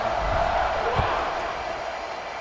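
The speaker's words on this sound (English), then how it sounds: "this crowd is feeling themselves after that last drive" A stadium crowd in a college football video game, FIU at New Mexico State, roars and cheers steadily at kickoff, a dense loud wash of noise with a brief swell in the middle.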